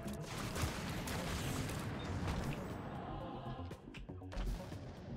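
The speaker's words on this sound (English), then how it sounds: "I just love the explosions." Rocket explosions boom and crackle in The Binding of Isaac: Repentance, a busy run of muffled blasts and impacts layered over constant game noise, with a few sharper bursts near the end.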